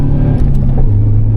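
Nissan 240SX with its stock 1996 KA engine cruising on mountain roads, a loud, close, steady low rumble with a slight pitch drop near the end.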